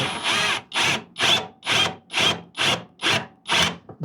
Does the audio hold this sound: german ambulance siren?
no